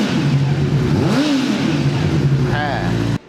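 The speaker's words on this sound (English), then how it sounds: "Let's give it a little rev." A Honda CBR600F sport motorcycle fitted with an Arrow exhaust idles and gets a quick blip of the throttle, the engine note rising and falling close by, followed by a second short rev.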